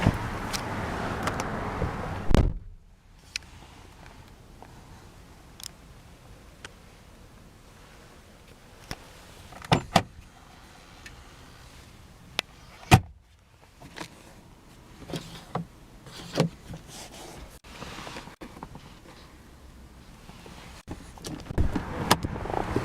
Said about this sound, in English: Full power passenger seat as well, with the same adjustments as the driver's side.